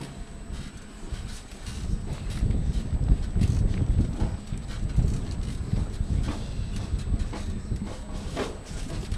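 Polo horses in an England versus Argentina match at the Snow Polo World Cup 2015 thud their hooves on snow, a continuous muffled rumble of many hoofbeats with wind, no voices.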